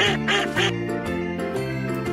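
A toy duck quacks loudly in a quick series of harsh, nasal honks, close and filling the short moment.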